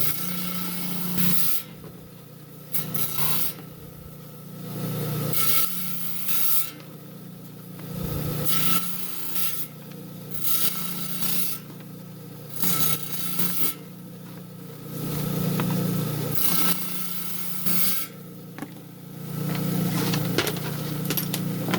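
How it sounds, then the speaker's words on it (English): A 10-inch continuous rim diamond blade saw grinds through banded jasper in repeated bursts, a loud close rasping whine that rises and falls as the stone is fed in and pulled back. "Got a 10-inch continuous rim center diamond blade. It don't cut with a sharp edge. It cuts by grinding."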